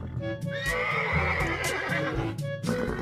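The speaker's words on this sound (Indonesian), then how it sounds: "Suara kuda." A horse neighs loudly and close, a long shrill whinny with a wavering pitch, accompanied by a few hoof clops and shuffling.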